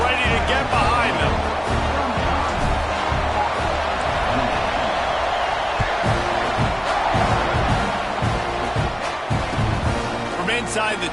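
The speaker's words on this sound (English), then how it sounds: "this crowd now ready to get behind them." A stadium crowd roars in a college football video game as Texas A&M kicks off against Florida, with a steady, dense wash of cheering throughout and a commentator talking over it.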